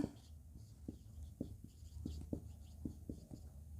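Chalk or marker strokes on a board during a class 11 maths lesson on set theory, a run of short scratchy taps repeating at an uneven rhythm, close and fairly quiet with faint room noise.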